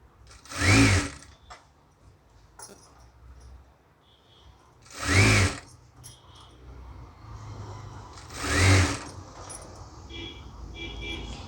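A sewing machine stitches a saree in three short, loud bursts of rapid whirring, each under a second and spaced a few seconds apart, with quieter handling noises in between.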